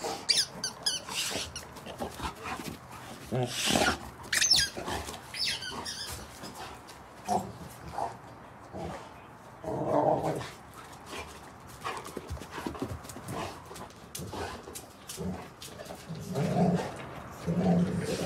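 A Rottweiler chews a squeaky dental chew toy with nodules, giving irregular bursts of squeaks and chomping amid quiet pauses, with a few low growls in between.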